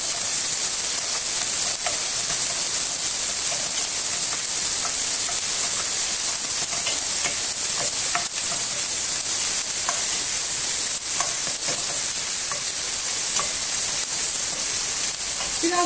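Steady loud sizzling and hissing of onions sautéing in a hot pot, constant throughout with occasional faint clinks of stirring.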